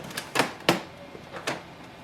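Opening the ink chamber on a Canon Pixma TR7620a printer produces a few sharp plastic clicks and clacks close by, spaced irregularly, with no talking.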